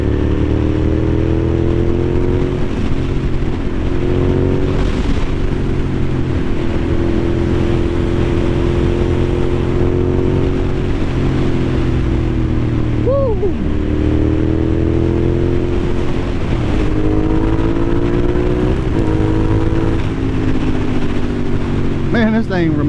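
A vehicle engine with a low, throaty grumble, like an old four-wheeler, idling and revving steadily and loudly throughout, with a few pitch swells as it picks up and drops speed.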